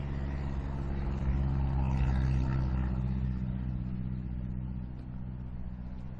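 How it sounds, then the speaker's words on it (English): Vehicles passing on a street in Nakuru, Kenya: a steady, loud engine drone and road rumble from nearby traffic, swelling slightly as a vehicle goes by, with no talk. "Right in front of me right now, where you can see the vehicles coming."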